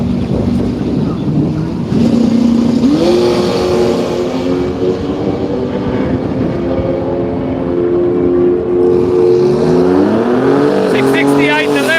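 A V6 turbocharged, nitrous-powered radial drag racing car at Willowbank, Australia, revs with strong harmonic engine tones that climb and shift through the run, loud and steady amid wind noise and a commentator talking over it.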